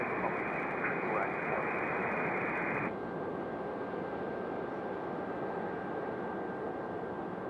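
A plane takes off from a runway at Raleigh Durham International, a steady broad roar of engine noise that holds throughout, heard through radio-like static.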